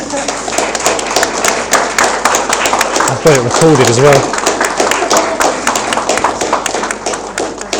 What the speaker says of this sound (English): I think that deserves a jolly big round of applause